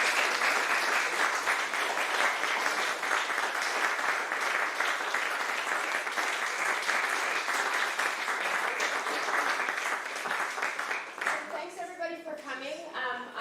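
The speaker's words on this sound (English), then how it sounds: "So I think we should give them a round of applause." A room of attendees at a Windham County Senate candidates forum applauds steadily for about ten seconds, the clapping fading as a voice begins speaking near the end.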